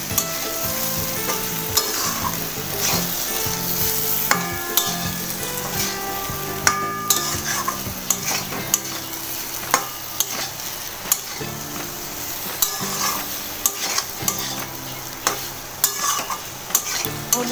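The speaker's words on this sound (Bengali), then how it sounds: "হলুদ আর নুনে খুব ভালো করে মিশিয়ে নিব, আর হলুদের কাঁচা গন্ধটা যাতে চলে যায় সেই পর্যন্তই আমি একটু ভেজে নেব" Pointed gourd, with salt and turmeric, fries in a pan and is stirred vigorously, giving a loud, continuous sizzle overlaid with repeated metallic spatula scrapes and clinks against the pan, close and without speech.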